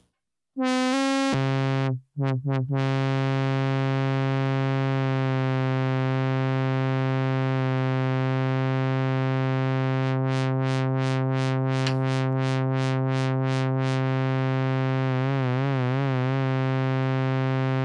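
Steady, buzzy ARP 2600 synthesizer tones imitating trumpet, trombone and tuba, held for a long stretch, bright and brassy, with a fast wobbling vibrato near the end and no talking.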